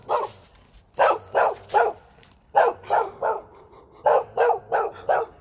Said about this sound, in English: We got a dog right here.